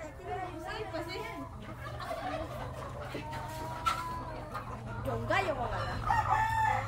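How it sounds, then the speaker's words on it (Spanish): Hundreds of hens cluck and call over one another in a noisy flock, with a steady hum underneath and occasional voices mixed in. "Mira cuántas gallinas hay, cientos de gallinas"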